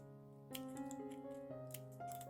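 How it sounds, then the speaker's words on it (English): Scissors snipping small paper tabs for a handmade paper box ornament, a few quiet crisp cuts in a short sequence, close and faint over a soft background tone. "I'm going to cut the little tabs"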